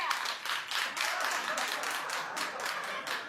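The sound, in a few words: audience clapping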